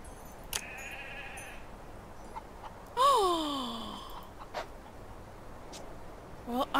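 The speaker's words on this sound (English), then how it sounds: "Hey there, baby caramel Pygora goat." A baby caramel Pygora goat in the FarmVille 2 video game lets out a single bleat with a falling, wavering cry midway through, amid faint clicks and quiet background noise.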